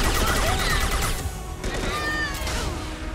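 Gunfire in Mass Effect 2, a continuous dense stream of shots with crashing impacts, loud and close, mixed with game effects and some background talk.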